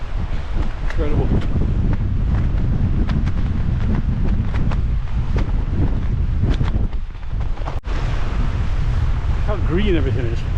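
Strong wind on a mountain roars steadily across the microphone, heavy buffeting noise throughout, with a rushing waterfall underneath.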